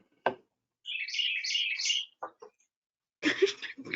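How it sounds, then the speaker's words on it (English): Birds chirp behind a video-call setting with a bright, fluttering run of tweets lasting about a second, framed by a couple of sharp knocks and a rougher burst of noise at the end. "I love those birds."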